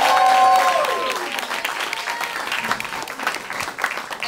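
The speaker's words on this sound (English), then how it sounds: "one final round of applause to the winners" An audience at a Baltimore new media web series festival applauds the award winners in a dense, steady burst of clapping that tapers slightly, with a brief voice at the very start.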